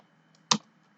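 A single firm keypress on a computer keyboard, the enter key struck once, stands out as a short close click in an otherwise quiet room.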